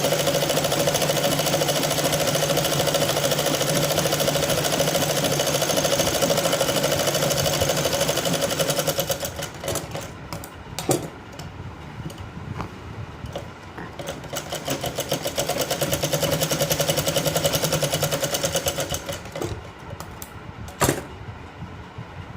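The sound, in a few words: sewing machine stitching a night dress shirt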